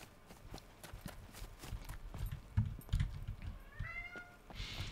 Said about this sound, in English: don't start meowing